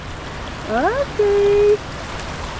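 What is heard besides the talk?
flowing water stream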